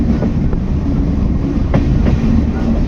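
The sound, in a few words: Vivek Express train running on the rails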